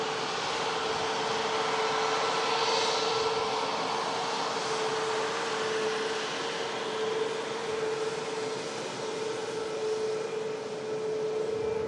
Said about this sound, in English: Ryanair 737 MAX. 8200 coming on in